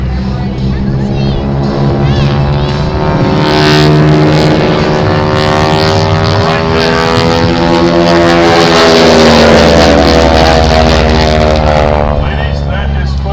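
Propeller aircraft of a North American team flying a loop at an air show in Iowa, a loud, continuous engine drone with rising and falling pitch as the planes pull through the manoeuvre, with a voice talking over it.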